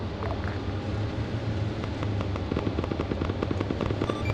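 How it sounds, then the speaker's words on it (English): Faint, distant pops crackle in a rapid irregular burst over a steady low engine rumble, like far-off gunfire heard from a moving vehicle, in a Vietnam War video game. "Gunshots northeast."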